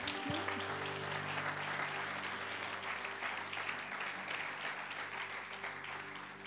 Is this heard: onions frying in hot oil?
no